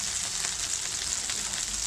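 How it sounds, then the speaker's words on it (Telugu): Green chillies frying in a pan for tomato chutney give a steady, close, hissing sizzle with constant crackle throughout and no talking. "ఆల్మోస్ట్ వేగిపోయినాయి పచ్చిమిరపకాయలు"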